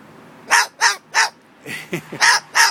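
A pet bird calls loudly and close by in a string of about seven harsh, bark-like squawks that come in an uneven rhythm. Short, lower-pitched chattering sounds fall in between.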